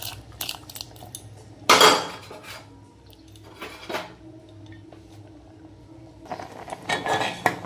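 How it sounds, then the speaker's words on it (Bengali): A spoon scrapes and clinks against a pot while rice, cashews and raisins are stirred into boiling milk for payesh, in several short metallic bursts separated by quieter simmering gaps. "চালটা দিয়ে নাড়িয়ে দেবো। কাজু কিশমিশটা দিয়ে দিলাম।"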